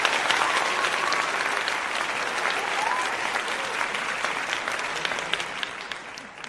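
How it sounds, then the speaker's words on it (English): Applause plays as a sound effect during a livestream, a sustained burst of crowd clapping that holds steady and then slowly tapers off. "Let me get you some applause, gang."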